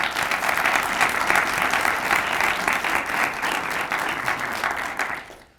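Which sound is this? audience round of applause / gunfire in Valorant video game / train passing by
audience round of applause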